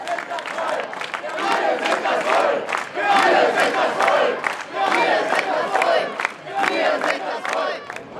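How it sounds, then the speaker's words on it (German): Protest demonstration crowd around Alexanderplatz in Berlin, a heated throng of many voices shouting and chanting in rhythmic bursts, loud and close, with scattered cheers and clapping. "Wir besuchen eine weitere Demonstration rund um den Alexanderplatz."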